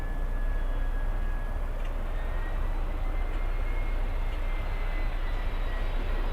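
A Lufthansa 747 airliner at Miami airport, a steady broad jet roar with a faint high whine, continuous and distant-sounding, with no talk.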